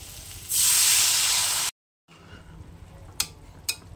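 Water poured into a hot pan of frying potatoes with turmeric, chilli and salt gives a loud burst of steamy hiss that cuts off abruptly, followed by quieter sizzling with two sharp clinks.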